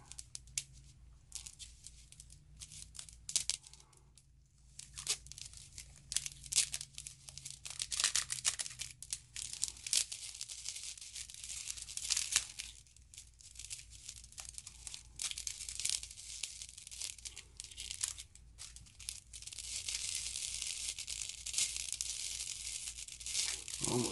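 Plastic shrink wrap is torn and crinkled off a deck of board game cards, a close run of ripping and crackling bursts that goes on without pause, with no talk over it.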